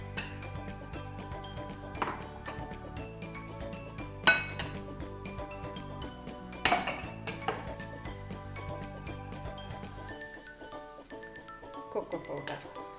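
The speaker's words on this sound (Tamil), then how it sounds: "ஃபஸ்ட்டு ட்ரை இன்க்ரீடியன்ட்ஸ் எல்லாம் ஒன்றா நம்ம சேர்த்துக்கலாம்" Dry ingredients for an eggless chocolate cake, including baking soda and cocoa powder, are tipped into a bowl, giving several sharp clinks of a utensil against the bowl at spaced intervals over steady background music.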